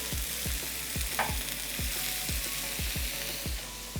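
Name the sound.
low-carb pasta added to a sizzling pan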